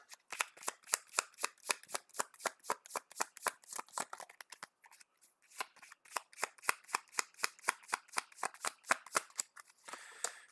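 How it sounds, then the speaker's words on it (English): Rapid, crisp riffle of cards shuffled in a card game, a long run of evenly spaced snapping clicks with a brief pause midway before the riffling resumes, close and clear with no talk. "Then we'll use Jesse Alexander to shuffle that back in and draw a card."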